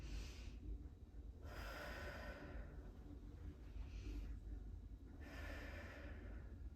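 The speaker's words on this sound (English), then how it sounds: "So as I breathe," Deep 360-degree breathing during a diastasis recti core exercise: about three slow, close, breathy inhale-exhale cycles, quiet and airy, with no talking.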